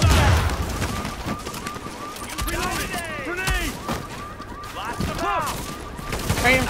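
Rapid gunfire bursts and impacts from a combat video game, with sweeping whoosh effects and explosions over a steady din, while players talk over the action.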